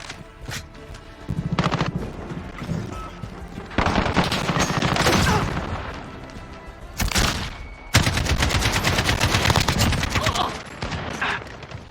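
AK rifle fire in Call of Duty: Modern Warfare, loud repeated bursts of automatic shots separated by brief pauses, with occasional quieter stretches between volleys.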